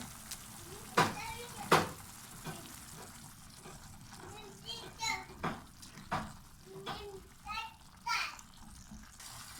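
Vegetables fry in olive oil in a pan, a low steady sizzle running underneath a person talking, with a few sharper stirring knocks along the way.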